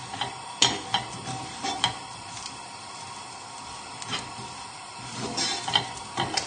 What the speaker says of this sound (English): So just keep moving everything around in the pan,